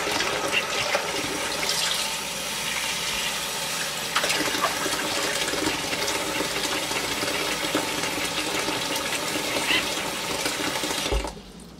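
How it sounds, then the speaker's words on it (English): Water runs from a tap into a sink being filled for washing knit photo props, a continuous splashing rush with small clinks, cutting off abruptly at the end. "you want to fill up your sink with water with your items on the other side"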